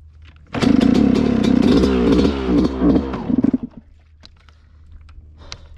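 A Yamaha YZ125 two-stroke dirt bike engine revs loud and close for a few seconds, with rapid rising pops, then drops back to a quiet idle.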